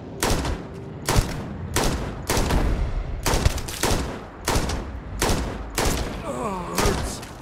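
Gunfire in the sci-fi video game Starfield: a rapid series of loud, close gunshot bursts repeating about every half second to second, with a few electronic tones near the end.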